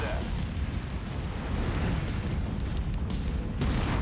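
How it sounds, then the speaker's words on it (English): Explosions and heavy weapon blasts from the mech combat video game Mechwarrior 5: Mercenaries, a dense, loud rumbling roar with bursts layered over each other and a sharp hit near the end. "Explosions! I need more explosions!"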